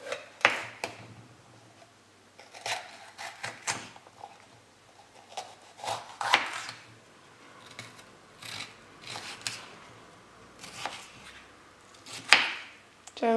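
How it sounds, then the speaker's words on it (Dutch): A knife cuts around the core of a bell pepper, producing a series of short crisp slicing and scraping strokes at irregular intervals, with quiet pauses between them. "Ik ga de paprika eerst eventjes wassen. En daarna snijd ik hem eventjes rond de kern."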